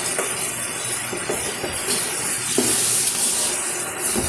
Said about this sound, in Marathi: आता कांदा छान सॉफ्ट होईपर्यंत आपण हे परतून घ्यायचं